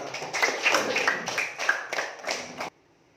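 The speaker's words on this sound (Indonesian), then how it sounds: "Tepuk tangan untuk kita semua." Classroom of students clapping together in Indonesia, a group clapping in short synchronized bursts with a rhythmic pattern that stops abruptly near the end, leaving near silence.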